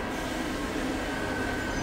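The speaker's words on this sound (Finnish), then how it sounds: "Nyt mennään toiseen metroon." A metro train runs at a faint, steady level, a low continuous rumble and hiss of the carriage in motion with no voices.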